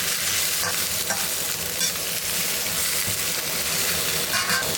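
Sweet onions, green onions, red chili and Sichuan peppercorns stir-fried for braised beef, a loud continuous sizzle with scraping stirs and spatula knocks close up.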